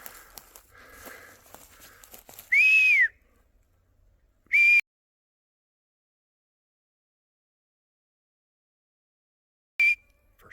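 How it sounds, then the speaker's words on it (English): A few sharp, loud whistle blasts, each short, with a rising-falling pitch on the first, come after soft rustling and footsteps, then a long silence before a final brief blast. "First whistle."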